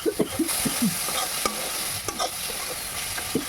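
Spices with turmeric stirred and fried in a pan for an egg tadka: continuous sizzle with scattered scraping strokes of a spatula against the pan, several distinct knocks near the start and end, no speech.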